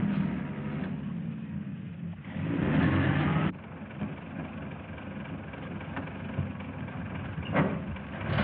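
A 1930s-era car runs steadily at a distance in an old film scene, a low continuous engine rumble that swells briefly in the middle, with no talking over it.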